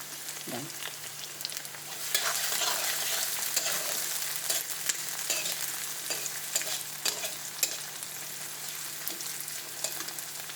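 Onion frying in a pan with dried red chilli, a continuous close sizzle with frequent light stirring clicks and scrapes, steady and without talk.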